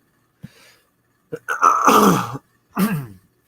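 A man clears his throat in a few short, rough bursts during a live stream, close and fairly loud, alone with no talk.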